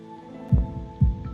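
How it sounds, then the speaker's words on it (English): Two deep, thudding heartbeat pulses from the visual novel Katawa Shoujo, about half a second apart, close and solid over a low steady hum of background music. "Oh, heartbeat. More heartbeats."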